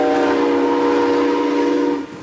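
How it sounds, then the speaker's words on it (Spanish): A train sounds a loud, sustained multi-tone horn while passing a station platform, holding steady before cutting off abruptly near the end. "este tren está pasando a buena marcha"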